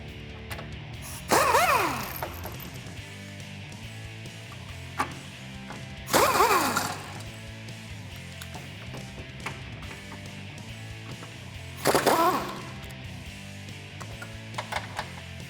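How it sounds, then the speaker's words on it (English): A ratchet with a 21mm socket backs off front bumper nuts on a 2018-2019 Ford F150, with three separate bursts of rapid clicking a few seconds apart and quiet tool taps in between. "we're gonna remove those 4 nuts, 2 on each side, and again, 21mm socket here"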